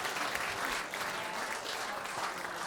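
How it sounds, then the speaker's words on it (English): A studio audience at a live comedy game show applauds a correct answer, with steady, full clapping that fills the room from start to finish. "And the crowd went wild."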